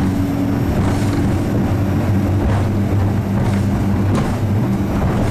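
A Nimbus 365 Coupé motorboat with twin engines runs at around 2900 rpm on light chop, a steady loud engine drone mixed with rushing water and wind noise, no talking.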